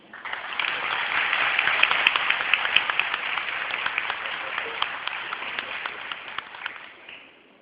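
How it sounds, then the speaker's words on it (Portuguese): An audience applauds at a Doutores da Alegria event in a cultural centre in Rio Claro, with steady, full clapping that holds for several seconds before tapering off at the end. "nós estávamos aplaudindo"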